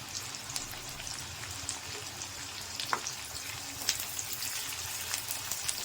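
Chopped onions sautéing in a pan for a Tamil vendakkai puli kuzhambu, a soft continuous sizzle with scattered small pops and faint stirring scrapes, steady and fairly quiet, with no talking.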